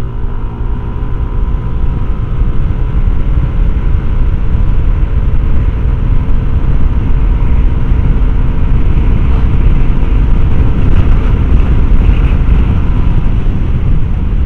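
A Yamaha NMAX scooter fitted with an upgraded CVT accelerates from 50 to 100, its engine droning loudly and continuously with a steady rumble and whine throughout, and no voices.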